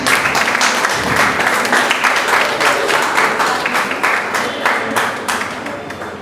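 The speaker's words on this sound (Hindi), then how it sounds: "तालियां बजती रहनी चाहिए, यह भवन गुंजायमान रहना चाहिए" A hall audience at a book launch applauds continuously, the dense clapping loud and even before tapering slightly toward the end.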